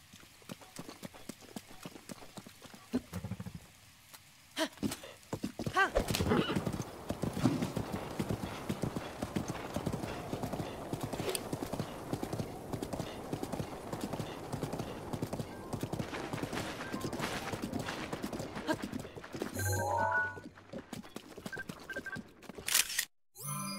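Horse hooves clip-clop steadily at a gallop across open ground in Zelda: Breath of the Wild, with a brief whinny near the end; a voice speaks a few words over it.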